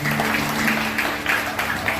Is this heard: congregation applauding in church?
yes